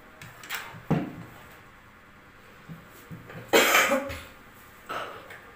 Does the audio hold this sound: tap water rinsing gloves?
no